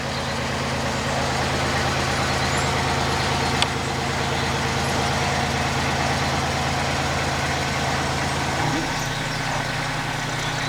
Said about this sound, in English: That is a little clever machine that, isn't it? You can drive it around and then you just lift it up